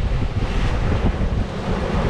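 Wind rushes steadily across a sailing boat in a 15 to 20 knot beam breeze, a loud, continuous roar buffeting the microphone with sea wash beneath, and no voices.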